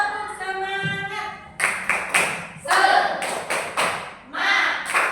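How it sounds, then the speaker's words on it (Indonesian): A group in a training session performs a rhythmic spirit clap, sharp bursts of claps in a patterned sequence after a brief sung or spoken lead-in, fairly close and punchy. "Ayo kita tepuk semangat dulu biar tidak lemes, biar semangat."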